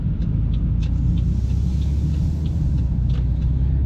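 A car pulls away through an intersection during a road test in Sackville, Nova Scotia, its steady engine rumble and road noise loud and continuous throughout, with no talking.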